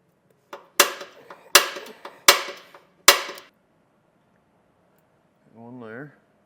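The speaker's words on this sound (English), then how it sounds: "Now I can punch out my 4 holes." Four sharp, loud strikes hammer a punch through mounting holes during a suspension installation on a 2023 Ford, spaced evenly about every three-quarters of a second with ringing decays, followed by a brief voice after a pause.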